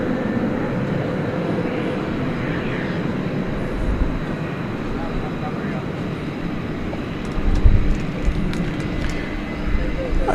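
At night at DFW airport, an airliner on landing approach gives a steady, distant roar that swells briefly near the end.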